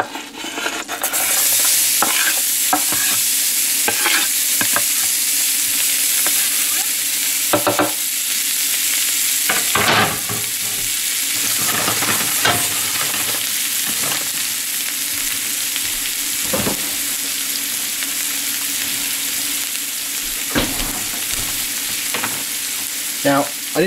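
Onion fries in a pan while a plastic spoon stirs it, a loud continuous sizzle close up with periodic scraping strokes and light clacks spread across the whole stretch, no talking.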